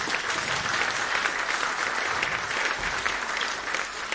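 Audience applause for the saxophone section of a jazz orchestra at a showcase concert, a dense continuous wash of clapping from a crowd, steady and even throughout.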